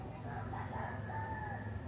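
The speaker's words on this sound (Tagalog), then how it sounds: "tiktilaok yung naririnig ko." A rooster crows faintly in the distance on a quiet mountain morning, over a quiet outdoor background with a low hum.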